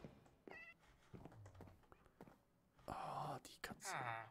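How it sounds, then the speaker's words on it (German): A cat in the Minecraft video game meows several times, short harmonic cries rising over a quiet indoor game scene, with a person talking between the calls. "Ich höre hier eine Katze. Ist hier eine Katze im Haus?"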